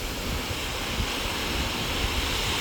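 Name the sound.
sea waves at high tide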